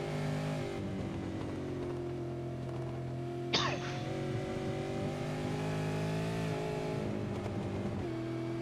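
V8 Supercars-style Commodore race car engines at Suzuka in a sim racing game drone steadily, layered and near, with pitch shifts and a brief sharp transient midway.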